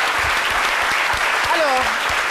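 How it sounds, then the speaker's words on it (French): Studio audience applauding loudly on a television talk show set, with a brief voice or whistle-like tone briefly riding over the steady clapping. "Yodan Donugo, qu'on applaudit très fort."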